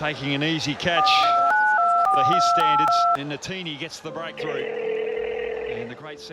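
Touch-tone keypad dialing on a phone: a quick run of about eight paired DTMF beeps, loud and close, then a steady ringback tone, with speech over the end.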